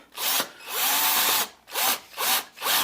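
A power drill drives a screw into the splitter of a Lexus IS F-Sport, with several loud, close whirring bursts of the motor separated by brief pauses as the screw seats.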